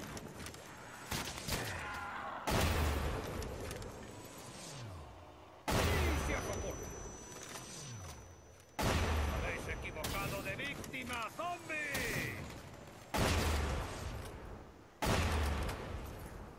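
Gunfire in the Call of Duty: Black Ops zombies mode (Call of the Dead map) on PS3, loud repeated bursts of shots separated by short pauses, with someone talking over the game audio.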